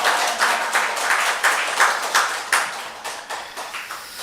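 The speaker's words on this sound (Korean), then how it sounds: "환영의 박수 부탁드리겠습니다" A church congregation claps in welcome for a guest at a Sunday morning service, steady close applause with regular swells, no voices over it.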